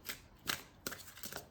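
Tarot cards for a psychic tarot reading are shuffled in three or four quick, crisp riffles, close and fairly quiet, with no speech.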